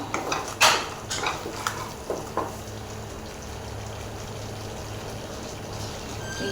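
Paneer keema masala fries in oil in a pan while a utensil scrapes and clanks against the metal, with several sharp knocks early on and a soft steady frying hiss underneath.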